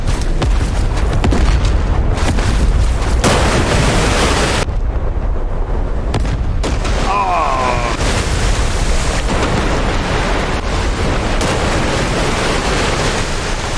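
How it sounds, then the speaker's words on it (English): Artillery shells land and explode in a World War II Iwo Jima battle video game, heavy booming blasts rolling one after another over a constant roar, with brief quieter gaps between impacts. "The artillery's landing."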